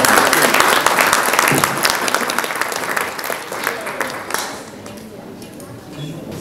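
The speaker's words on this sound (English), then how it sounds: "A big round of applause for our president, Zahid Ahmed, please." Sustained applause from an audience at an NED Alumni Association of Southern California anniversary gathering, dense clapping fairly close that thins out toward the end, with voices mixed in.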